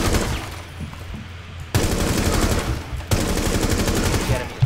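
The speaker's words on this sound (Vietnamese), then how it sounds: "Đây là các bạn có thể bắn xuyên cái tường nhé." Gunfire shooting through a wall in Rainbow Six Siege, with loud, close rapid bursts of automatic fire in two sharp volleys following a rumbling lead-in.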